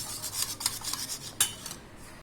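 Egg, sugar and milk being whisked together in a bowl for French toast, giving a steady scraping and clinking of a utensil against the dish in quick irregular strokes, close and fairly quiet, with no talk.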